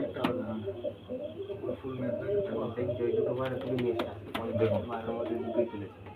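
A pair of Fullshira pigeons coos nearby in repeated low, throaty rolling calls, with someone talking over them at a pigeon sale.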